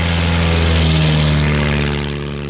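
A Midget Mustang experimental plane flies past, its propeller engine droning loud and steady with strong low harmonics, pitch dipping slightly as it fades a little at the end.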